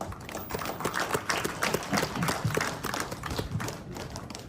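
A crowd at a community outreach meeting in Parishara Village, South Rupununi, claps in a dense, irregular patter, with individual claps standing out as the applause swells and eases over several seconds.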